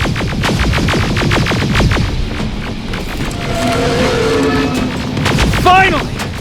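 Gunfire in the Terminator Resistance video game: a loud, dense volley of sharp shots cracks through the first two seconds, then sporadic shots continue over droning tones and game noise, with a final burst near the end.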